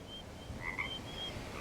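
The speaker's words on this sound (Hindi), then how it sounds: "बाहर से मेंढकों की आवाज आ रही है" Frogs croaking outdoors after rain: a faint, quiet night scene with a couple of short croaks clustered near the middle, above a soft background hum.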